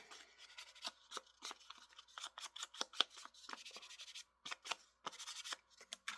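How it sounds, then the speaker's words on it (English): Paper being trimmed with scissors during a steampunk paper-craft project, a run of short crisp snips and rustles at close range, spaced irregularly with brief pauses, with no one talking. "So we're just going to go ahead and trim just a little bit off."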